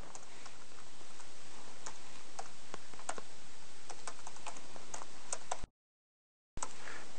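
Card number being typed on a computer keyboard: a run of crisp, close key clicks at an irregular but brisk pace, briefly cut to silence before a few more taps resume.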